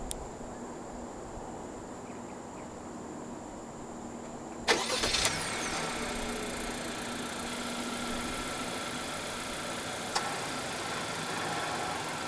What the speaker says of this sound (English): Standard for the third generation HR-V in Malaysia from the E trim onwards is a remote engine start system